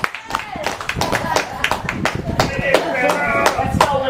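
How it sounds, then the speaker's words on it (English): Audience clapping at a program event, a run of sharp, irregular hand claps close by, steady through the stretch with voices talking and calling out over it. "Keep clapping, y'all."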